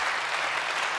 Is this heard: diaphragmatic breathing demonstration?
no